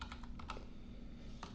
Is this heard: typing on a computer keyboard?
yes